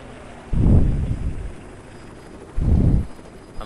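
A helicopter in the zombie survival video game LifeAfter sweeps past twice as loud, rushing whooshes of rotor wash, each swelling and fading within about half a second, with no talk over them.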